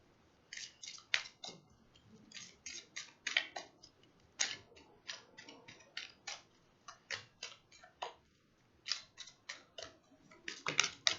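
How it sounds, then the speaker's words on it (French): A deck of tarot cards shuffled by hand, giving a steady run of crisp riffling and slapping bursts, close and fairly quiet, with no talking. "je continue un petit peu à mélanger"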